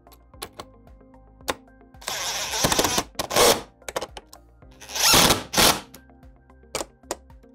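Bolts on a Polaris RZR Trail being tightened with a 7/16 wrench and a Phillips driver sound as short bursts of power-tool whirring between sharp metallic clicks and taps, close and fairly loud.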